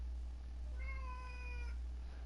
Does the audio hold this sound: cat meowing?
yes